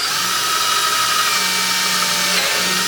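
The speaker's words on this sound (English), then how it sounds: "I'm just going to come to the center of the door and drill a pilot hole." A power drill whines steadily and loudly for about three seconds without stopping, a close, continuous high-pitched buzz while drilling a pilot hole in the center of a door.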